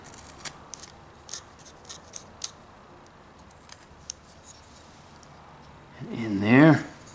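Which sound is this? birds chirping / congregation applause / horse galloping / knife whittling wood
knife whittling wood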